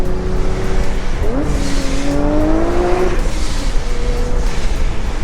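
A supercharged 2012 Infiniti engine with a 6-speed manual revs and accelerates with a rising, aggressive tone, holding steady then climbing again over a constant loud mechanical roar.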